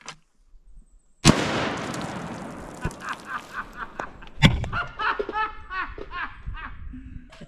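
Single .243 rifle shot cracks loudly into two steel tumblers, followed by a second sharp metallic impact and scattered clatter, with people laughing and reacting in the background.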